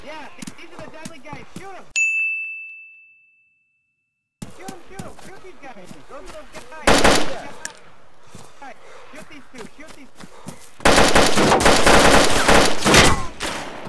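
Gunfire in the DayZ video game, loud bursts of rapid shots in two clusters, one briefly in the middle and a longer dense volley near the end, with people talking and shouting throughout.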